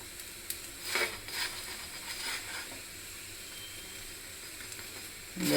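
A paratha fries in just a little oil in a pan, a soft, faint steady sizzle and hiss with a few brief louder crackles early on, and no one talking.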